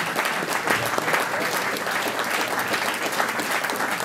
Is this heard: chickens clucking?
no